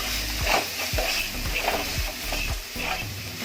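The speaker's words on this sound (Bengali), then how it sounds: "পেঁয়াজটাকে আরও একবার ভালোভাবে নাড়াচাড়া করে নেব।" Chopped onion and chilli frying in a pan for restaurant-style mixed fried rice, stirred with several rhythmic scrapes over a steady close sizzle.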